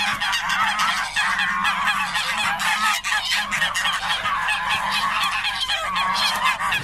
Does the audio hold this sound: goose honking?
yes